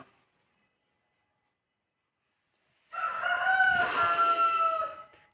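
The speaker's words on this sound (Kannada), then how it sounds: "ನಮ್ಮ ಮನೆಯ ಬಿಗ್ ರೋಸ್ಟರ್ ಬಂದಿದೆ ನೋಡಿ ಇಲ್ಲಿ" A big farmyard rooster crows once, a loud, close, drawn-out cock-a-doodle-doo that comes after nearly three seconds of silence and stands alone with no talk.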